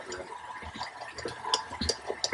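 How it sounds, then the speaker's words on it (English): Water poured slowly into a pork and venison sausage mixture for honey garlic pepperettes, a soft trickling and splashing with wet squelches, fairly close and moderate in level. "We'll just nice and slowly add the water in."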